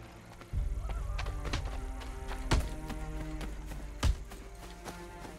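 A horse gallops in Assassin's Creed III Remastered, with a steady run of hoofbeats and a couple of heavier thuds, set against a sustained game soundtrack.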